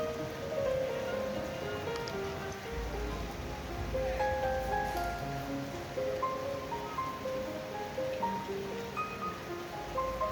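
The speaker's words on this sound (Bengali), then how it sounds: "প্রচুর বৃষ্টি হচ্ছিল দেখো" Steady heavy rain patters on a rooftop nearby, a continuous dense hiss of drops with no voices, even and unbroken.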